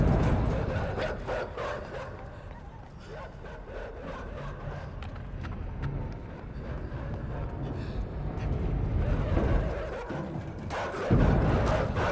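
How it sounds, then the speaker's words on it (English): Dogs bark and yip in the side-scrolling game Inside, a run of repeated barks over a dense, loud game soundscape with rumbling low noise throughout. "Bark, bark, bark, bark. Dumb mutts."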